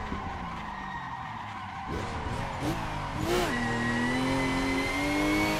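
A drift car on a winding mountain road, with tires squealing and skidding through a curve, engine revving and rising in pitch, close and loud over a steady motor drone.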